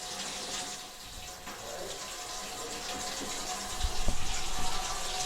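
Well water surging out strongly after a slow, murky start, a steady broadband rush that grows louder toward the end, with a few brief voices in the background.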